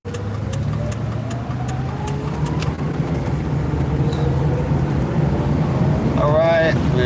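A car engine runs steadily while driving, a constant low drone with road and wind noise throughout, a few passing tonal whines near the end.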